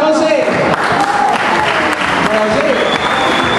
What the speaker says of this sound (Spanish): Fuerte aplauso para José